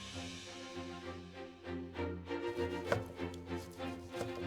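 A knife slices boiled beef brisket, left over from making broth, on a cutting board. The cuts come as a run of quick, light taps under soft background music.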